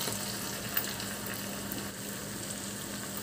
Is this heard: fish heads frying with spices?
yes